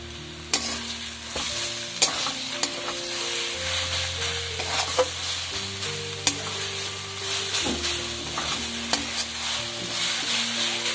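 Carrots with added sugar being stirred in a frying pan for a Bengali gajorer tel, a utensil scraping and clinking against the pan over a steady oil sizzle, with sharp knocks at irregular intervals and no talking.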